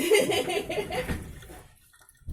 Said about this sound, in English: So pour a little bit of water in there.